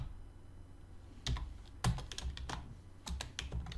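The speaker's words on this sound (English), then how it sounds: "Gotta get typing lessons." Typing on a computer keyboard during Java programming: quiet, irregular bursts of key clicks with short pauses between, close and without talk.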